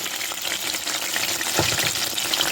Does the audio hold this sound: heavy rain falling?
no